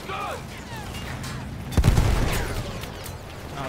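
Gunfire and explosions in the World War I video game Battlefield 1: a sustained rattle of shots with one heavy boom midway, loud and close, followed by lingering rumble.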